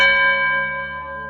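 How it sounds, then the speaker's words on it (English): A single church bell tolls once at night, its deep ringing hum sustained and slowly fading over a second and a half, with no voices present. "The next night, at the 1st bell toll"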